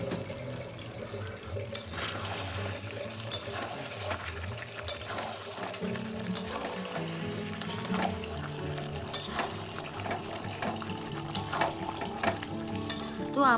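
Mutton sautés in a pan as warm water is added, giving a steady low sizzle and bubbling with scattered stirring clatters and utensil knocks throughout, moderately quiet and close.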